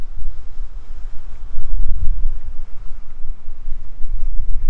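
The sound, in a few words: wind blowing into microphone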